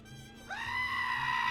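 A single drawn-out goat bleat from a park-building video game, a loud wavering cry that starts abruptly halfway through and holds over a soft background.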